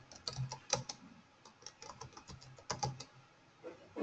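Keys clatter on a computer keyboard as text is typed, quiet close clicks in uneven bursts with short pauses.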